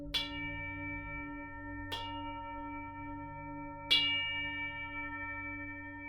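A 12-inch Tibetan singing bowl keyed to G hums with a steady layered drone of overtones, struck three times at even intervals so each soft strike blooms over the sustained ring.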